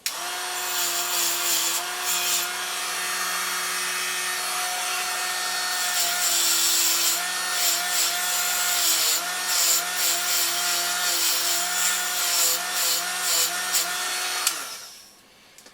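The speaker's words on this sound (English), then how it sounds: "So just going over these with my little multi-tool." Small handheld multi-tool whining steadily as it works over parts of a Roberts R707 radio, a close, sustained buzzing hum with slight pitch wobbles before it cuts off near the end.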